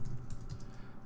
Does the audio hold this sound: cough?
no